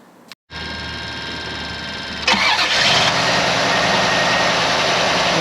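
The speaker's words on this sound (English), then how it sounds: "We'll go ahead and get on the Cadillac and fire up." A 1992 Cadillac Allante with a 4.5 liter V8 cranks with the starter whirring for a couple of seconds, then catches and roars to life before settling into a steady, loud idle up close.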